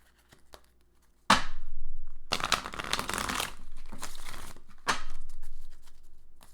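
Brisk riffling and shuffling of tarot cards in a few bursts, close and crisp, with short pauses between them and no talking.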